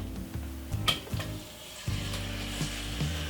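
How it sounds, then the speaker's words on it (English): A simple piece of marinated steak fries in a pan over medium heat, giving a steady close sizzle. Light clinks and scrapes of the pan and utensil break in now and then. "So that's the frying on a medium-sized heat at the moment."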